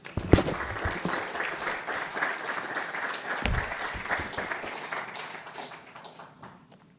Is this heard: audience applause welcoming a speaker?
yes